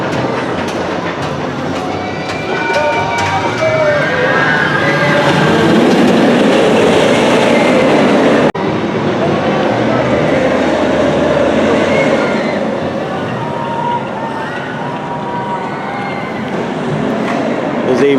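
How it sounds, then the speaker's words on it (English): A Goliath roller coaster train at Six Flags Over Georgia climbs its lift hill with a steady rattling, clanking mechanical clatter, heard from some distance over continuous amusement park crowd noise and nearby voices. "you can see the train on Goliath going up the left hill"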